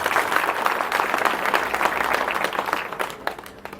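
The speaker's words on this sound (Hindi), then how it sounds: "एक बार ज़ोरदार उनके लिए तालियां ज़रूर हो जाए" Applause from an audience at a community review meeting in Chandrapur, a dense steady patter of many hands that holds loud throughout and thins slightly near the end.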